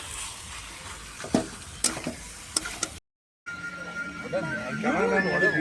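Goat meat frying and being stirred in a pan at an outdoor village picnic, with sizzling and sharp clinks of a spoon against metal, then a voice speaking over the cooking.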